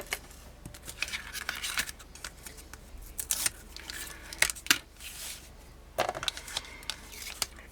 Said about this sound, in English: I'm going to get all of this tape off.